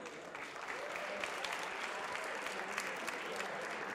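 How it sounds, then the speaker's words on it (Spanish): An audience at a Nerd Nite talk claps for a speaker taking the stage, a continuous, fairly distant patter of many hands at even strength throughout. "un aplauso gigante, por favor."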